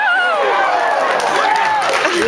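A convention panel audience at Fan Expo laughs, claps and cheers in a dense, close crowd burst that carries on steadily, with voices mixed into the noise.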